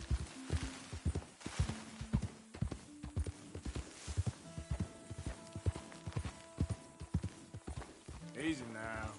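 Horse hooves trot in Red Dead Redemption 2, a steady clip-clop of repeated hoofbeats that continues throughout, with a person speaking over them and a brief whinny near the end.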